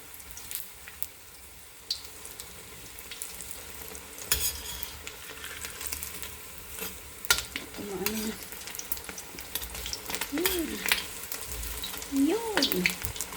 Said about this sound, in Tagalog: pakita ko na sa inyo ang aking pagprito ng maliit na isda